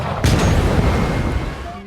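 A gunshot fired from a pistol hits a gas cylinder and sets off a sudden boom, followed by a rumbling blast that slowly fades. The burst is loud and close and hits once, with no talking.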